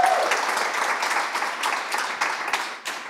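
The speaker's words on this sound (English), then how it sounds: "Would you please help me give them a round of applause for joining me this afternoon?" Audience applause at a Toastmasters-style table topics meeting, a steady wash of many hands clapping that carries through the whole stretch with small swells and fades.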